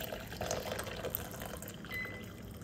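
Freshly boiled water is poured from a kettle into a cup for spearmint tea, a soft, close trickle and splash with faint filling tones, recorded quietly.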